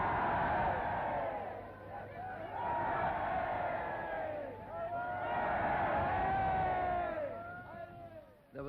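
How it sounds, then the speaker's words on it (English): Crowds cheer and shout around British Prime Minister Chamberlain's car in an old newsreel: a dense, roaring mass of voices swelling in waves, loud and continuous with no clear single speaker. "there was no sign of British reserve as the crowds fought to get near the Premier's car"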